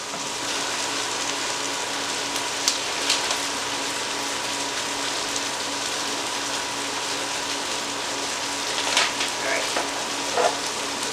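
Garlic and chicken sizzle in a pan for chicken marsala, a loud, even frying hiss running throughout with a few light clinks near the end.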